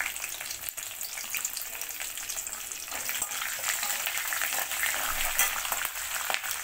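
Green chillies and curry leaves hit hot oil in a tempering for cabbage curry, giving a steady bright crackling sizzle with small pops throughout, close and alone without talk.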